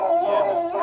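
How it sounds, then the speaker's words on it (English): A Great Dane gives one drawn-out, howling bark or yowl close by, holding steady before cutting off sharply at the end, with no talk over it. "It's a Great Dane."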